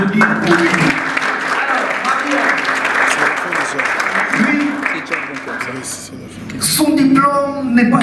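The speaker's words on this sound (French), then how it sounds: "Est-ce qu'on peut applaudir pour lui?" An audience claps for a panelist at a French-language panel event, dense applause filling most of the stretch before easing, with a voice speaking over the end.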